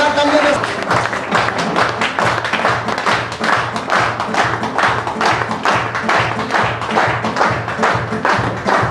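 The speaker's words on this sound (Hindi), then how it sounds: "जोरदार तालियां।" Loud, dense applause from a seated crowd at a business plan presentation, steady clapping filling the whole stretch with no breaks.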